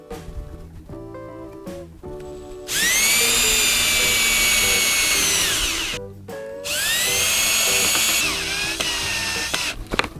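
A power drill whirs in two long bursts, revving loudly and up close, with short clicks and pauses before and between the runs, as it drives screws to mount a canvas for drill spin art.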